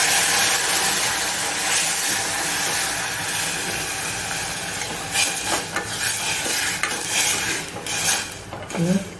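Water poured into a hot pan of spices and turmeric, with a steady hiss and sizzle, light stirring and clinks of a utensil against metal.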